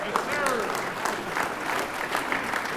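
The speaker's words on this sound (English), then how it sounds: "can you give Mayor V a round of applause?" Crowd applause for a mayor at a tribute event, steady clapping with some voices mixed in over the short stretch.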